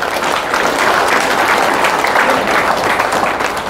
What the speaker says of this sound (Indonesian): Tepuk tangan untuk Polri.